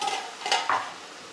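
Cluster beans cooking in a little oil in a clay pan, a soft sizzle with a couple of quick stirring scrapes, close and brief, no talk.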